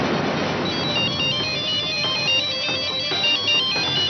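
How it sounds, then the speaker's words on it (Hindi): A phone ringtone plays loudly and alone for several seconds as a repeating electronic melody, with no talking, in a Hindi TV drama scene. "रघु का फोन"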